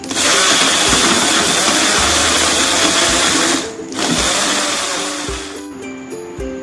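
A blender whirs loudly and steadily as it mixes banana and milk for a shake. The motor dips briefly near the middle, then runs on, and its pitch shifts slightly toward the end.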